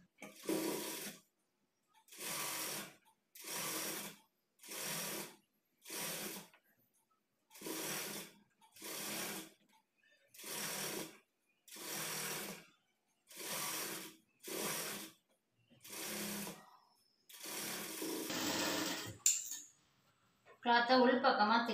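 A sewing machine runs a long stitch along folded blouse cloth in short, even bursts about a second long, separated by brief silences, all close and clear.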